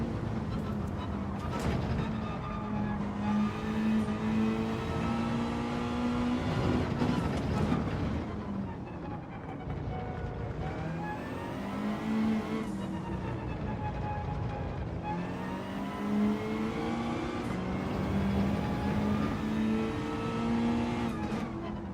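A Mazda racing in Gran Turismo 7 revs hard through repeated gear changes, its engine note climbing and dropping in cycles, loud and steady throughout, with a voice talking over it now and then.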